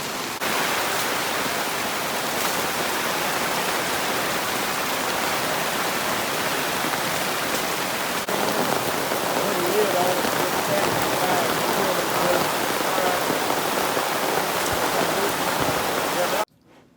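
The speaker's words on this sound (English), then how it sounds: "the Florida event is currently raining like crazy" Dense, steady rain hisses continuously close by in Florida, a broad even wash of drops that cuts off abruptly at the end.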